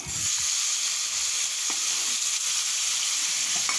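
Chopped tomato hits hot oil in a pan for a leftover rice dish, giving a steady loud sizzle throughout with a couple of faint clinks and stirring scrapes, no talking.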